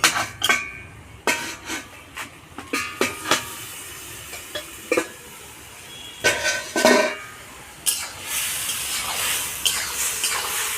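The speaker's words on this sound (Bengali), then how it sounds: "এবার আমি ঢাকাটাকে খুলে দেখব" Lid lifted off a pot of hilsa fish curry with spinach and green banana, a series of sharp metallic clanks and scrapes at irregular intervals, then a brief steamy hiss near the end.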